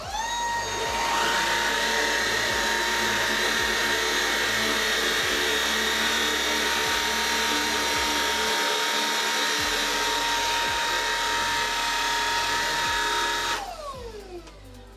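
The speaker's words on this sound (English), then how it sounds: "So first I'll use the Shark on its low power mode." A Shark cordless vacuum on its low power mode cleans coffee granules from carpet, giving a steady close whine with a high tonal hum that holds for about thirteen seconds before winding down.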